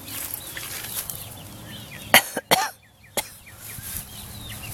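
Chickens cluck and chirp in short, repeated calls while Grandpa feeds them outdoors, with a few sharp, loud bursts like coughs or clatter breaking in midway.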